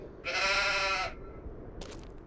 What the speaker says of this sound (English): So we have basically got some sheep and Highland cattle on this farm. There's a few lambs in here,